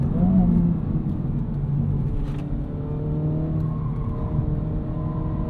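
A 2025 Honda Civic Type R in R mode pulls hard in third gear on track, its engine note climbing steadily under load, heard from inside the cabin as a continuous rising drone.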